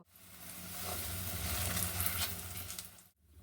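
Egg chapati pakora with vegetables sizzles steadily in hot oil, a close, continuous crackling hiss that swells slightly and then stops abruptly near the end.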